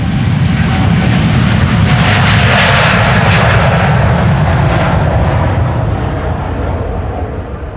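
An airliner bound for LAX roars loudly during departure from Amsterdam Schiphol Airport, a close, sustained heavy engine rumble with broad hissing noise that holds steady and begins to fade near the end.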